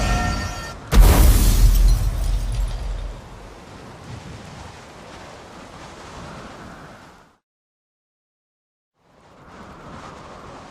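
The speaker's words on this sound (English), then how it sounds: "Storm's over." Thunderstorm in The Witcher 3: a loud thunder crack breaks over a steady rain-like rush that fades, drops to silence, then a softer wash of rain returns.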